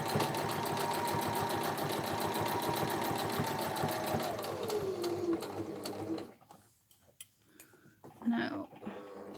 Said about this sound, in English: I'm going to go forward with my stitches, and it's still on zigzag,